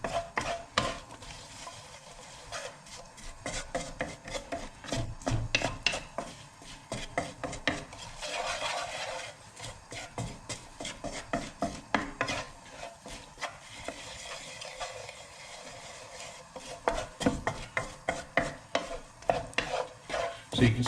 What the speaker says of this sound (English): Now we're going to stir all of that into the oil.